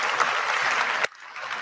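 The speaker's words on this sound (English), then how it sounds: "Give a very big warm round of applause." A keynote audience at a London tech conference gives a burst of steady applause that cuts off abruptly after about a second, leaving a faint room tail.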